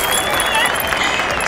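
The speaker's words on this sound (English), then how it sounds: "in post edit, here is some fucking applause because you deserve it" Loud, dense applause from a crowd, steady and unbroken for the whole moment with no voices over it.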